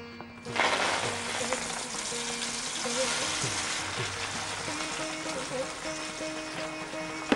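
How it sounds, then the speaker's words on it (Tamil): Spinach sautéing in hot sesame oil in a pan, a steady hiss and sizzle that runs continuously at moderate level from just after the start. "கீரையை நன்றாக நல்லெண்ணெயில் நாம் பொன்னிறமாக வதக்க வேண்டும்."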